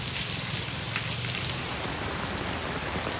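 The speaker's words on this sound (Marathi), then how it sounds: "जोरदार पाऊस कोसळतोय" Heavy rain pouring down in suburban Mumbai, a dense, steady hiss of rainfall on surfaces, close and constant, with no voices.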